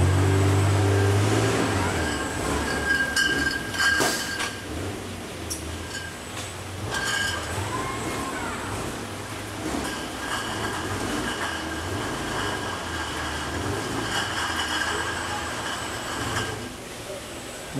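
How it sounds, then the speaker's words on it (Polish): Industrial machinery for depalletising beer bottles, with a robot and conveyor running, gives a steady loud mechanical rumble with clinks, squeals and clatter throughout, with no pause. "Za każdym ruchem robota przenoszonych jest jednocześnie 80 pełnych butelek."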